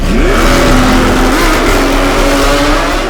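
A Novitec-tuned Ferrari Purosangue V12 revs loudly and close by, its pitch sweeping up, holding, then climbing again in a sustained, rising roar with no talk over it.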